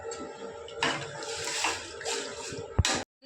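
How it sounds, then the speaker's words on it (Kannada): Water poured from a tumbler into a pot for tomato rasam, a gushing splash in several surges with a brief knock near the end, close and without talk. "ನಾನು ಈ ಲೋಟದಿಂದ ಒಂದೂವರೆ ಲೋಟ ನೀರು ಹಾಕ್ಕೊತಾ ಇದ್ದೀನಿ"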